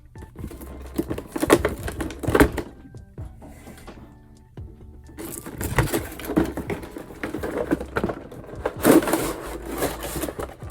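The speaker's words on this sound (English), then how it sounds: "Looks like the tape is already cut, so we can just pop it right on open." A cardboard box of Pokemon Nendoroid figures is opened, with close rustling, tearing and tapping of cardboard in two bursts separated by a quieter pause.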